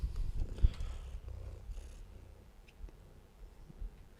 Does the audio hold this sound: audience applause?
no